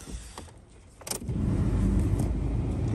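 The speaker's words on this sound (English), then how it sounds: "Let's see if she starts up, though." A wrecked six-speed Ford diesel car is cranked, with a brief click and rattle before the engine churns into a loud, steady low rumble that carries on to the end.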